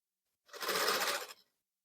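A sewing machine stitches a blouse in one brief, steady whirring run of under a second, starting and stopping cleanly in a quiet room with no talk.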